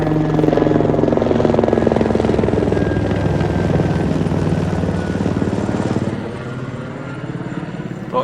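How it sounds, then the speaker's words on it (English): A helicopter thunders overhead a farm field with a heavy rhythmic rotor thump, loud at first and then slowly fading as it moves away. "Got a helicopter coming over as well."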